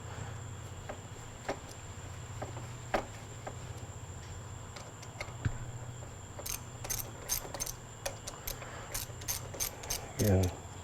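A ratchet with an 8mm socket loosens the bolt on a bicycle's clip-on brake assembly, giving quick clicking runs in several bursts that grow busier toward the end, close to the listener over a low hum, with no talking.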